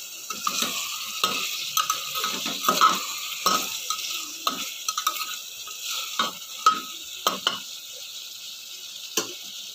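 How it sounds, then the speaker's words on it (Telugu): Mutton hits browned fried onions in a hot pan, sizzling steadily while a spoon scrapes and stirs in repeated sharp strokes against the metal. "ఆనియన్స్ ఫ్రై అయిపోయినాయండి. ఇప్పుడు మటన్ యాడ్ చేస్తున్నాను."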